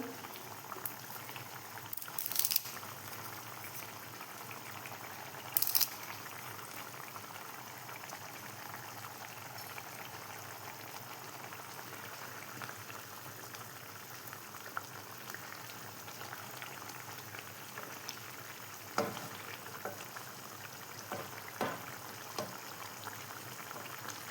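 A pan of Kerala fish curry bubbles and simmers steadily for a long stretch, a constant soft boiling hiss with occasional louder pops.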